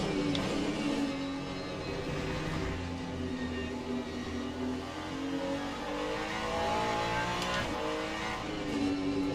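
Hypercars and a GT3 Ferrari racing at Spa in the Le Mans Ultimate sim, a continuous loud roar of several engines revving and accelerating, with shifting pitch and a brief tire squeal, no voices.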